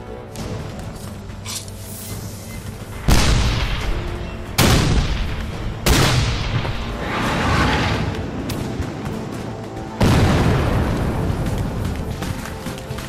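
Civil War cannon at Gettysburg, a bag of gunpowder firing a 12-pound solid iron cannonball: four heavy booms at uneven intervals, each a sharp blast with a rumbling tail, over low background rumble.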